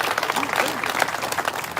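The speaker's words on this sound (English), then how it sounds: "give her a better round of applause than that" Audience applause at a street sign unveiling ceremony in Philadelphia, a brief burst of clapping from a crowd with a voice talking over it.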